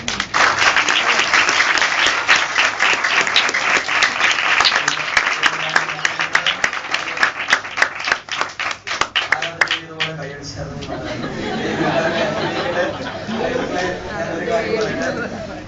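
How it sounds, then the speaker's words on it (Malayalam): An audience in a church gathering claps for a pastor, a dense burst of applause that fills the room and then thins into scattered claps, with crowd chatter and murmuring rising as it fades. "നമുക്കെല്ലാവർക്കും പാസ്റ്ററിന് സന്തോഷസൂചകമായിട്ടൊന്ന് കൈയടിച്ചാൽ"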